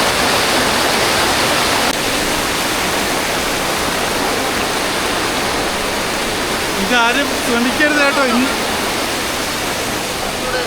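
Loud, rushing water of a river at Kottiyoor, Kerala, roars continuously close by, a powerful torrent, with a voice briefly speaking over it.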